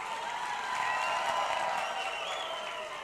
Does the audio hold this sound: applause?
yes